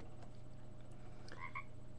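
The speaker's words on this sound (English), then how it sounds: "there was a croaking outside my window." A frog croaks outside a bedroom window at night, two or three short, faint croaks late in the clip over a steady low background hum.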